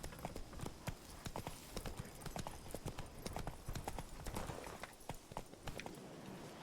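A horse's hooves clip-clop in a steady trotting rhythm in The Witcher 3: Wild Hunt, a long run of crisp, quick hoof strikes at moderate volume with no talking over them.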